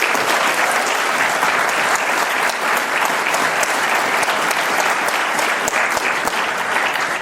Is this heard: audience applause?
yes